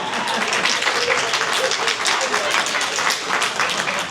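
An audience at a comedy roast show breaks into applause, a dense steady patter of many hands clapping at close range throughout.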